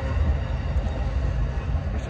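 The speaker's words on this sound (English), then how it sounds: "Riding a train ain't bad." Steady low rumble and rattle of a passenger train in motion, heard from inside a carriage riding to a family visit at Christmas, a continuous close drone with no break.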